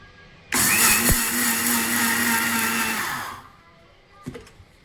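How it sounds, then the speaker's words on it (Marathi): A mixer grinder whirs loudly as it grinds sesame seeds, a steady high-pitched motor roar lasting about three seconds before it spins down, followed by a brief clatter. "एकदा मी हे मिक्सरमधून वाटून घेणार आहे"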